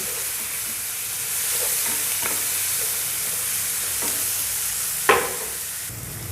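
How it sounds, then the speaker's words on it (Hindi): Sliced onions fry in hot oil in a pan for a karela (bitter gourd) dish, giving a steady close sizzle broken by a few utensil scrapes and one sharp crackle near the end. "इसी ऑयल में जाएगा हमारा प्याज, इसको करेंगे अभी फ्राई"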